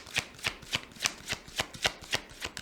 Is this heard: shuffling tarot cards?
yes